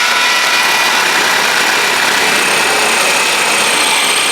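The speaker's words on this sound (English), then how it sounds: "I now need to finish drilling through so that I can feed the cables through" A power drill bores through a house wall into the floor space above, a loud, steady high-pitched whine that holds unbroken without any pause.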